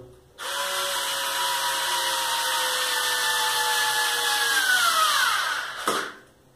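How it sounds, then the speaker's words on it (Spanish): A cordless power screwdriver whirs steadily for about five seconds while installing a wall-mounted clothes drying rack, then its motor pitch sags and winds down as the battery runs out, before a brief click. "también se puede utilizar algún tipo de destornillador eléctrico"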